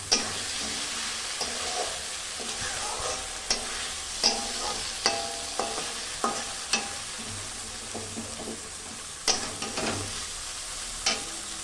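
Leafy greens fry in a pan with a steady sizzle, while a utensil scrapes and stirs them in repeated sharp clicks. The sound is close, and no one speaks.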